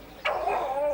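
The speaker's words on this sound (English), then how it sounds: "They're saying that the dogs are barking during the day and night." A Staffordshire cross or pit bull lets out a single sharp bark that trails into a whining yelp, close and fairly loud against a quiet background.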